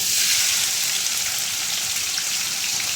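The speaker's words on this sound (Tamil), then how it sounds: "வெங்காயத்தை நல்லா வதக்கிக்கலாம்." A large batch of onions, about a kilo, frying with cinnamon, star anise, cloves and bay leaves for aloo gobi masala, giving a dense, continuous close-up sizzle and crackle with no talk.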